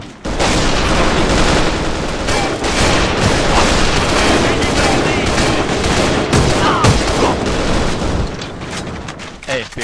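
Gunfire from the online shooter AVA rattles in dense, loud, near-continuous bursts of rapid shots and booms that last almost the whole stretch, with brief lulls at the end.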